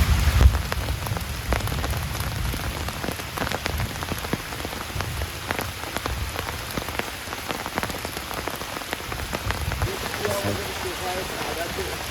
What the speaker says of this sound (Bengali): কি বৃষ্টি গো